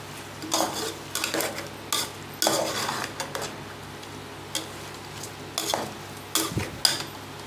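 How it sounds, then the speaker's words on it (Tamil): Bursts of sizzling as chicken fries in a pan come in short waves, mixed with light clinks of a utensil against cookware. "சிக்கன் வந்து நான் வந்து சிக்கன் பொரிக்க போகிறேன்"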